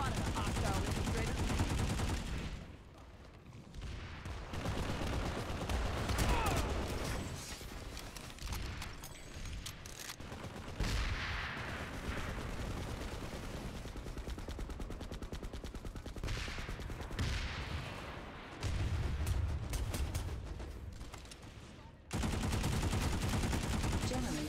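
Video game gunfire in bursts of rapid automatic shots and single cracks, with some short pauses, loud and close throughout, while a voice speaks at times between volleys.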